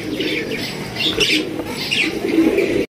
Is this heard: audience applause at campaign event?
no